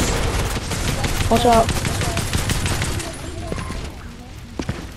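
Rapid repeater rifle gunfire in a ranked video game match, a dense run of sharp shots crackling through the first three seconds with a few scattered later cracks, heard under people talking.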